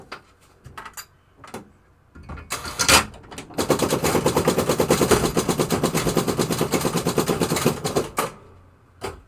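Rapid machine-gun-like scoring rattle from a 1973 Williams Travel Time pinball machine, a loud, steady burst of fast repeated clacks lasting several seconds after a few scattered knocks and bumps.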